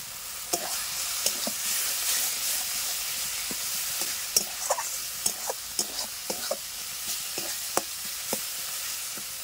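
Spice paste for a Bengali jackfruit curry sizzles in a pan with a steady hiss, while a spoon scrapes and stirs in quick, irregular strokes close by; no one speaks.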